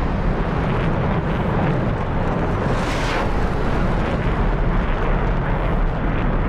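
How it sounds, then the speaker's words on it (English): Rapid Vulcan cannon fire in an air combat video game dogfight against a MiG-19, a dense, continuous roaring burst that stays loud throughout, with a slight swell midway. "That's a Vulcan cannon"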